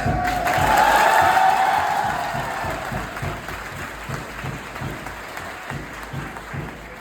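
A group of schoolchildren claps loudly together in a classroom, a dense burst of applause that peaks early and then tapers to thinner, scattered clapping.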